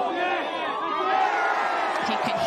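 A golf gallery cheers and roars continuously at an LPGA tournament, a dense wash of many voices shouting together.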